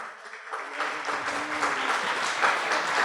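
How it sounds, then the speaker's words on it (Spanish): Applause from the audience at the close of a constitutional discussion event, a dense continuous patter of clapping from many people, steady and moderately loud throughout. "Les damos un gran aplauso."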